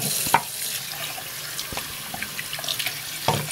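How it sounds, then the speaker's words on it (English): A sink tap runs water at close range, a continuous soft splashing stream with a few sharper clunks and drips over it as something is dunked under the flow. "Turn the sink on."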